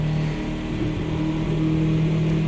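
BMW 2002 Turbo engine in the Automobilista 2 racing game, a steady cruising drone holding even revs, loud and continuous with no speech.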